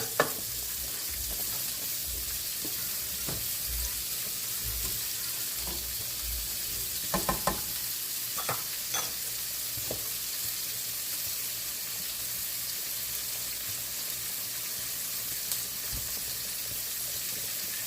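Turkey sausages sizzle and crackle steadily in a hot pan, with occasional louder pops and scrapes as they are stirred, and no talking.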